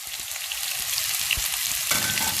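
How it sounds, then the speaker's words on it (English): Potato stir-fries in a pan for a Korean side dish, sizzling loudly and steadily throughout with faint scraping as the pieces are turned. "stir fry it until you can see that the potato already turned opaque"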